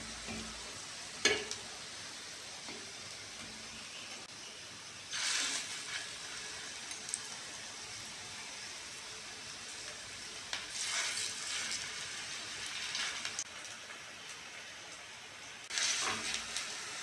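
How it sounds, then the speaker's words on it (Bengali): Shapla flower fritters deep-fry in oil over low heat on a clay stove, a soft continuous sizzle broken by louder bursts of crackling and stirring at intervals, close by and with no talk. "হালকা আঁচে একটু ডুবো তেল দিয়ে ভেজে নিলে বড়া দারুণ লাগে খেতে।"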